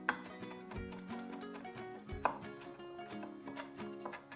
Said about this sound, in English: we dice another potato